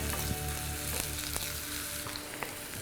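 Ginger, curry leaves, garlic and onion frying in hot coconut oil for a Kerala fish dish, a steady close sizzle with small crackles and stirring clinks throughout.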